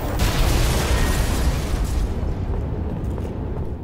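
A fusion drainer exploding on the Foundry map in Halo 3 multiplayer, a loud, close booming blast that rumbles heavily and slowly dies down over a few seconds.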